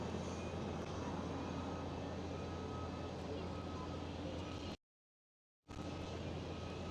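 A KLM Transavia airliner taking off at Schiphol sends a steady, distant jet roar across the whole stretch, cut by a short gap of silence before the rumble resumes.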